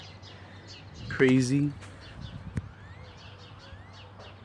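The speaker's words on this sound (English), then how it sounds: "I enjoyed the birds singing." Birds chirp and tweet in short, faint repeated calls near a roadside bus stop, with someone briefly talking over them and a sharp knock midway.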